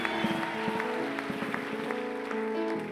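A church congregation claps during a Sunday service, with a dense patter of hands over sustained musical tones throughout.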